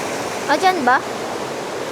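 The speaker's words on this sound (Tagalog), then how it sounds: "Lakas ng agos." A strong river current at a campsite rushes steadily and loudly up close, a broad continuous roar, while someone speaks briefly over it.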